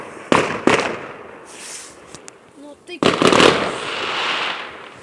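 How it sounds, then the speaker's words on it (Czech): A neighbour's New Year's Eve fireworks go off behind the house: sharp loud bangs followed by crackling bursts and a long rumbling spray, fairly near, with a voice speaking briefly. "tohle to byl sousedův ohňostroj"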